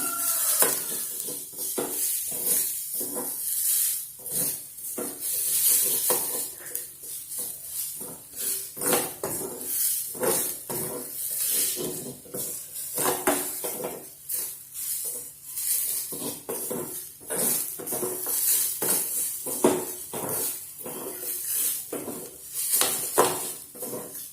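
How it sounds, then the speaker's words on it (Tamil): Coconut roasting dry in a pan, giving steady scraping and stirring against the metal with a light sizzle, repeated in a continuous rhythm close by and without any voices. "வெறும் தேங்காயை மட்டும் போட்டு நல்லா வறுத்துக்கலாம்."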